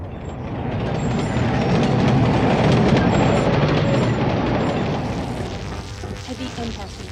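Train rumbling through a tunnel in the video game Carrier Command: Gaia Mission, a loud, sustained low roar that swells, then gradually eases off with faint clatter toward the end.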